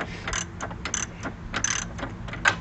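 A ratchet with a deep well socket works on a front suspension bolt of a C4 Corvette, giving close, quick clicking bursts in short irregular runs against a quiet background.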